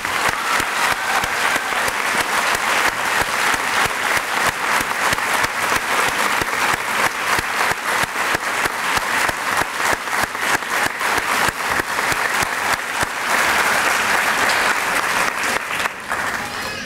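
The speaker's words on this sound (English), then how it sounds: "will you give all three of our finalists a huge round of applause?" Loud, dense audience applause for three Teacher of the Year finalists at a Worcester Public Schools evening celebration, continuous many-handed clapping filling the hall for well over fifteen seconds with a brief swell near the end.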